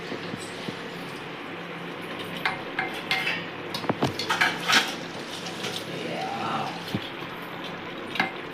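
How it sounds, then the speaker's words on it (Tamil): Soaked seeraga samba rice stirred in a pot, with scattered scrapes and knocks of a spoon against the pot over a low steady background hum. "இப்போ நான் அரிசி போட்டு கிண்டி விட்டாச்சு நல்லா."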